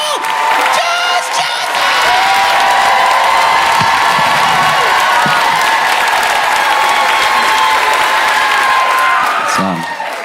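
An audience at a stand-up comedy show claps and cheers loudly, with dense sustained applause, whoops and shouts filling a hall for about ten seconds before fading.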